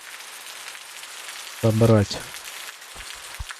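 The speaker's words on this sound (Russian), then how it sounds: "Еще и дождь пошел." Rain falls steadily in the sci-fi survival game Osiris: New Dawn, a soft continuous patter on the ground heard under a voice speaking briefly in the middle, with a couple of faint thumps near the end.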